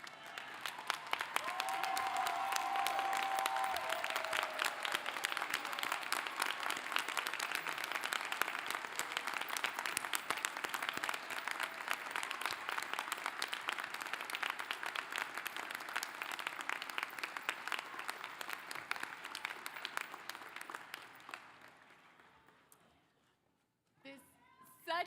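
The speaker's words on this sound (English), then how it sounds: "Can we give our graduates another round of applause," A graduation crowd claps for new law school graduates at the University of Louisville, a long, dense, even ovation that holds strong for some twenty seconds before fading out, with a few stray sounds at the end.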